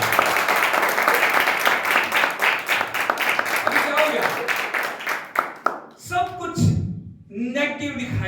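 A church congregation claps along in a fast, steady rhythm for several seconds while a preacher's voice carries over it; the clapping then stops and only his speech continues.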